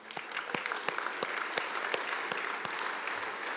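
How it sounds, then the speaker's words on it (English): Applause at a horticulture industry awards gala dinner, a hall full of guests clapping warmly, with a few sharp, distinct nearby claps standing out from the steady crowd sound. "So the last round of applause for all of you."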